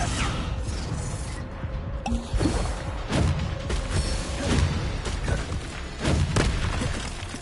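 Spell effects from the Hogwarts Legacy video game burst out in quick succession, booming thuds, crashes and creaking mechanical impacts layered over a steady game soundscape.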